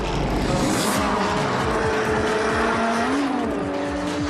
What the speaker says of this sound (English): The annual tourist trophy motorcycle race gets underway.